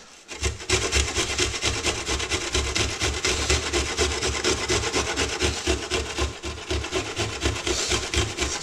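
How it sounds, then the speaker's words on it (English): An onion grated by hand on a kitchen grater for a veggie pasta, heard as fast, rhythmic rasping strokes that repeat steadily and loudly, close up and without any talk. "And now I'm just going to hold the grater like this"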